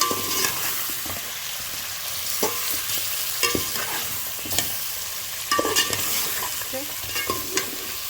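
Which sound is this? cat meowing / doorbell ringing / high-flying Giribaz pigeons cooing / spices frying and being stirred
spices frying and being stirred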